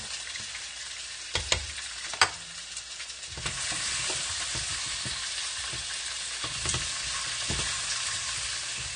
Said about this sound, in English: I'm going to give it a good mix real quick.